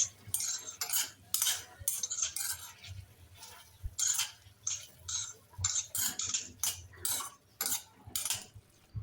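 Chicken pieces rubbed with turmeric and salt are stirred in a covered kadhai over a low gas flame, with repeated close metallic scrapes and clinks of a spoon against the pan in an irregular rhythm and no talk.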